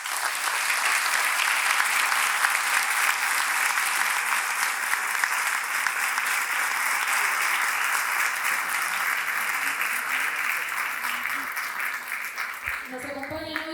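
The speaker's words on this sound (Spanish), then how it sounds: "Y pido un aplauso por eso." Sustained applause from an audience at a Malvinas memorial ceremony honouring fallen soldiers, dense and steady throughout, tapering slightly near the end.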